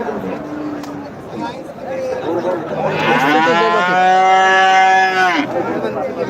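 At a cattle market, a cow lets out one long, loud, close moo after a few shorter lowing calls, set against crowd chatter and people talking nearby.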